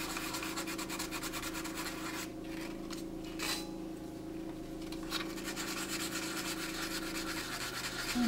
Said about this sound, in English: start sanding this.